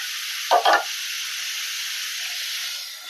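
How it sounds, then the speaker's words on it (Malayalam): Sliced papaya for pickle frying in a pan, a steady bright sizzling hiss with a couple of quick stirring scrapes near the start, no talk. "നമുക്ക് ഇളകി കൊടുക്കാം"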